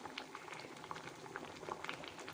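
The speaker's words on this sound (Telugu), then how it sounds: "చూడండి ఎంత బాగా ఉడికిపోతూ ఉంది." Horse gram sambar bubbles in a pot at a soft, steady boil, with faint continuous simmering and small irregular pops close by and no voices.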